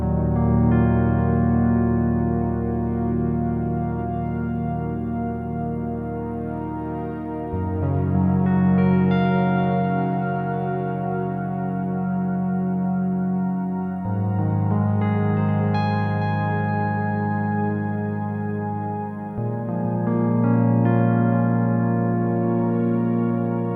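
A Groove Synthesis 3rd Wave synth patch layers a piano part over a sustained pad, slow chord changes every several seconds, full and steady with no voices.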